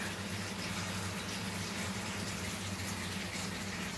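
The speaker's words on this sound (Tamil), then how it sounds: "அதுக்கு பிறகு புளி தண்ணியை நல்லா புளியை கரைச்சி நல்லா ஊற்றிக்கோங்க" Tamarind water poured steadily into a simmering fish curry, a continuous close gush of liquid with no breaks and no talk.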